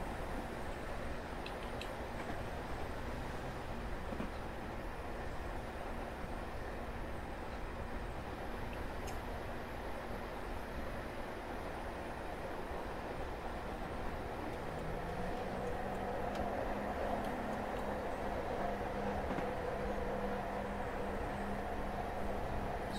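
A train in Train Simulator runs along the North Wales Coast Line between Chester and Holyhead, giving a steady, low, continuous rumble with a slight shift in engine tone partway through and no speech.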